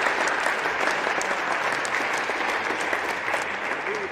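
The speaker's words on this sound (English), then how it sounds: "Big hand of, big applause, Christopher." Audience applause at a squash championship ceremony, the final of the men's world junior team event, a dense continuous burst of clapping from a crowd, fairly loud and steady throughout.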